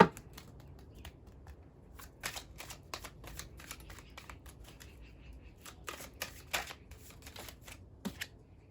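Oracle cards shuffled by hand, a run of soft, quick papery riffles and flicks in irregular bursts, close and quiet, with no voices.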